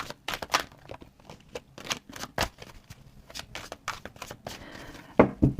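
Tarot cards are shuffled and drawn by hand in a quiet room, giving a string of soft, quick papery snaps and riffles, close and faint, with no talking over them.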